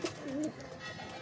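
A pigeon of a flying breed coos close by, one soft rolling call near the start, followed by quiet background.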